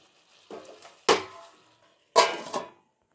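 A lid clatters onto a pan of spinach thokku in a kitchen, a few sharp metallic knocks with short ringing tails, close and fairly quiet.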